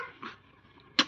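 A child imitates a dog, giving two short, faint bark-like yelps about a second apart.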